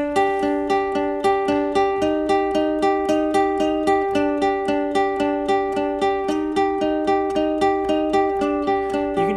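A bright, repeating guitar intro riff of quick plucked notes plays in a steady rhythm, with sharp regular attacks throughout and no voices.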